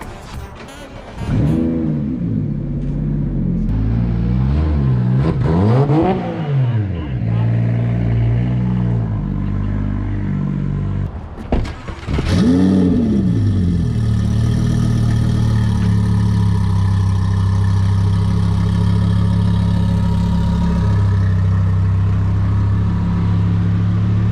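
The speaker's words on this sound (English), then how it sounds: "Do we think the N54 big single turbo will beat the twin turbo R8?" A twin-turbo Audi R8 and a BMW N54 big single-turbo car line up for a race, engines revving in rising and falling sweeps, then a loud sustained acceleration roar close by.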